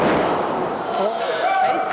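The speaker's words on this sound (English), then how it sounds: "He just got slammed right on his neck." In a four-way independent wrestling match, a wrestler is body-slammed onto the ring mat, landing on his neck: a heavy thud inside a loud, continuous wash of crowd noise, with commentators talking over it.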